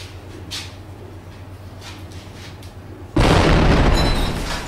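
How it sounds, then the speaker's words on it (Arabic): A T-72 tank shell explodes in a residential neighborhood of Bab Hood, Homs, a sudden loud heavy blast cutting through quiet background and rumbling as it slowly decays. "قصف الحي بدبابات 72"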